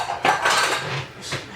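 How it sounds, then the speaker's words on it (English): Empty tuna tins are set down in a kitchen, giving a few quick metallic clinks and clatters close by, spaced irregularly over a second or so. "I'm just gonna put these tins over there so I can wash them out"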